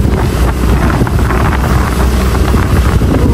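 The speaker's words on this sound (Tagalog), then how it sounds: "Malakas ang hangin." Strong wind roars and buffets the microphone continuously on a road strewn with leaves and debris, a loud, steady gusting rush with no other sounds standing out.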